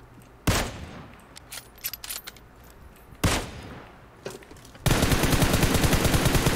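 Gunfire in the mobile game PUBG Mobile, with a few loud single shots and scattered smaller pops, then a sustained rapid automatic burst at the end, heard alone without talking.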